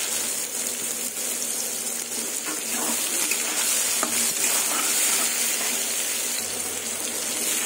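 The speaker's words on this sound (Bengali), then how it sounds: "এই তেলে সোয়াবিনগুলো ভেজে নেব। সোয়াবিনগুলো লাল লাল করে ভেজে নেব।" Soybean chunks frying in hot oil, a steady, close hiss and crackle of sizzling with occasional stirring scrapes, continuous throughout.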